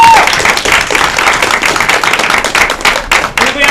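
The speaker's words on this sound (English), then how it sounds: "Give them a round of applause." An audience claps in applause for two students at a live slide-show event, a dense, loud burst of clapping that tails off after a few seconds.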